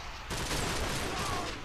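Sniper gunshots in a video game burst in suddenly after a quiet start, a loud dense volley of shots with crackling reverberant tails continuing to the end.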